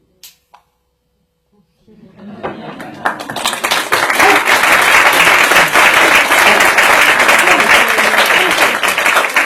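An audience at a mentalism magic show breaks into applause after a couple of quiet ticks, with the clapping swelling quickly into loud, sustained, dense clapping that holds to the end.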